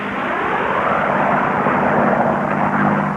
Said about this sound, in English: Each of those planes doing better than 350 miles an hour, some up to 390 and 400 miles an hour on the straightaways.